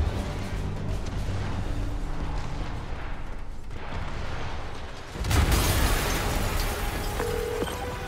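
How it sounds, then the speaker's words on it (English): A heavy explosion in a Spider-Man video game bursts in after five seconds, a loud, deep blast that then settles into a rumbling roar over an already busy, grumbling backdrop. "an explosion just..."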